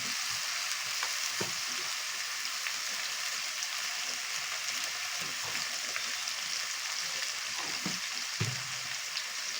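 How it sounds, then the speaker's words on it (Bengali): Taro stolon frying in a home kitchen pan with salt and turmeric, giving a steady broadband sizzle throughout, with occasional soft stirring knocks and scrapes and no talking. "এবার এটাকে ভাজতে থাকবো যতক্ষণ না একটু লালচে লালচে হয়।"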